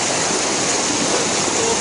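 Rainstorm floodwater in Sri Racha rushing hard enough to push cars, a loud, steady, dense roar of churning water filling the whole stretch with no break.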